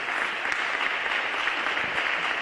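Youth church congregation applauding in a dense, uniform patter of many hands that holds steady and alone at moderate loudness throughout.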